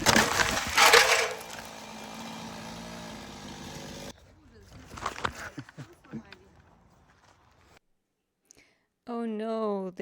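A leaning tree, cut with a chainsaw, crashes onto a fence in a loud splintering burst at the start, followed by scattered crackles and snapping debris, then a voice speaks near the end.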